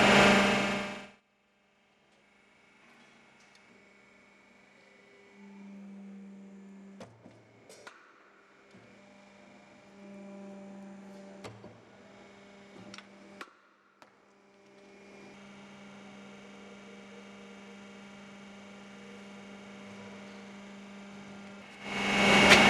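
An iron worker machine worked by foot pedal gives a steady electric hum with a low tonal drone, broken by a few sharp clicks and clunks, with louder bursts at the start and end.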